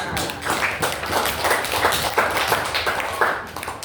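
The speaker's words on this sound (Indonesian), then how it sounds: "tepuk tangan untuk kelompok keempat" Students in a classroom clap their hands together, a loose, uneven patter of claps from a small group that carries on for a few seconds, fairly close.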